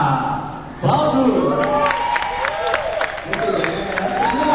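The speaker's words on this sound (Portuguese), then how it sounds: "Aplausos!" A crowd at a carnival gathering applauds and cheers, a steady wash of clapping and voices that swells suddenly after a quiet start and carries on with shouts and a voice over it.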